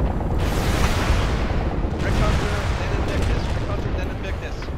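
Enemy gunfire rattles in MWLL on the Qandahar map, a loud, steady wash of shots and booming impacts that runs without pause, with a voice talking over it at times.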